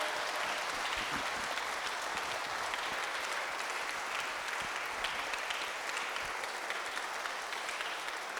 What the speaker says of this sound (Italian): facciamo ancora un applauso